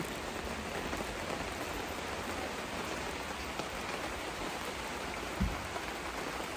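Steady rain patters on a shelter roof at a raspberry pick-your-own farm in Denmark, a dense, even hiss of drops with one soft thump near the end.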